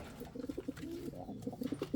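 Fantail pigeons in a breeding loft coo in a quick series of soft, throaty, repeated calls, close up and continuous.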